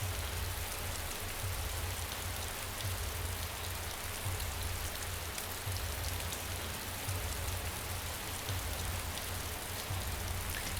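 Steady rain falls in the video game DayZ, a dense even hiss of drops on surfaces with a low rumble beneath, constant throughout with no speech.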